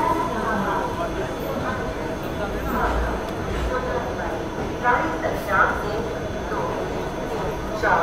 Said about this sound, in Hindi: इलाहाबाद हावड़ा विभूति एक्सप्रेस